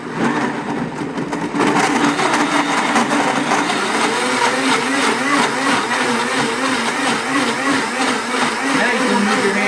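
A Blendtec 570 blender whirs steadily and loudly while blending vegetable tortilla soup, starting up after a brief quieter moment and then holding a constant motor drone.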